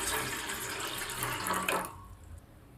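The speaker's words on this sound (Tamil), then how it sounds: "ஒரு கடாயை அடுப்பில் வச்சுட்டு நம்மளுக்கு தேவையான அளவு தண்ணியை ஊற்றிப்போம்." Water poured into a kadai pan sitting on a stove, a steady splashing stream running for almost two seconds before it stops and leaves near quiet.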